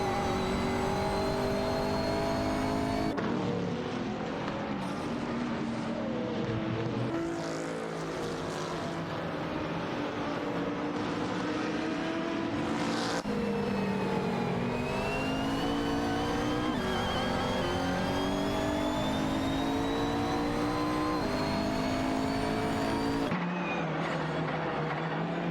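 Race cars in a racing video game roar past one after another, engines rising and falling in pitch as they accelerate and overtake, a dense continuous layered drone with sudden cuts between scenes.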